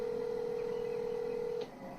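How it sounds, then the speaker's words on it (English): A telephone being dialed to call someone, a single steady electronic dialing tone that holds for about a second and a half and then stops, clear and alone with a quiet background. "We reached out by phone, but still no answer."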